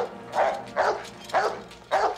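A dog barks four times at an even pace, each bark fairly near and of moderate loudness, with no talk over it.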